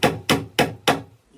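A small 3-pound Harbor Freight hammer strikes wood during cabin subfloor work, four sharp, evenly spaced blows at close range, each ringing briefly before fading, with quiet after the last hit.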